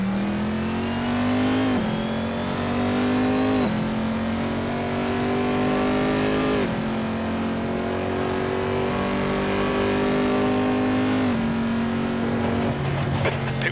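A GTLM race car engine in Assetto Corsa at Spa-Francorchamps revs hard and steadily, with loud, sustained tones rising through each gear and sharp drops at the shifts.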